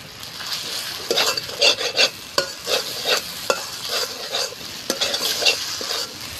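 Spice paste for doi katla, a Bengali fish curry, sizzles and fries in a pan while a spoon scrapes and stirs it in repeated strokes, close up and with no talking.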